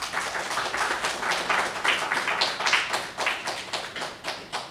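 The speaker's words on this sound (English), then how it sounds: "Can we give her a big round of applause?" An audience at an agriculture ministry platform launch event applauds steadily, with dense, close clapping sustained throughout at a fairly loud, even level.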